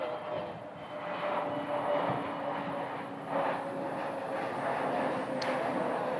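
Frontier Airbus A320neo jet coming in to land at Dallas, a broad distant engine roar that swells slightly and holds steady for several seconds with a faint whine, heard outdoors from afar.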